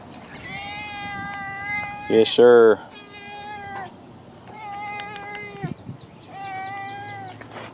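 A cat meows several times in long, drawn-out calls at close range, while someone speaks briefly in between.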